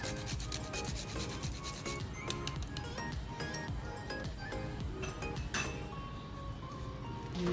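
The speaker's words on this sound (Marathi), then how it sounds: "थोडंसं जायफळ किसू" Nutmeg is rubbed across a grater in a steady, continuous rasping scrape, close and fairly loud, for several seconds in a kitchen where sweet fudge with dried fruit and cardamom is being made.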